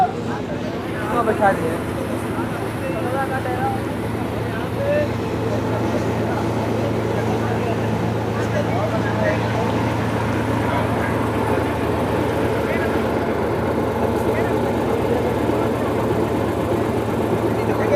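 A motorboat engine on the Ganges at Varanasi hums in a steady low drone continuously throughout, with people talking over it.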